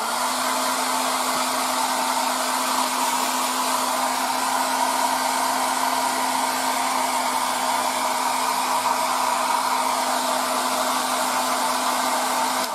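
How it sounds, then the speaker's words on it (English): Hair dryer blowing over thin paint layers on a 1:72 scale model, a loud, steady close-up whoosh with a constant motor hum, running alone for the full length. "So now with the air dryer."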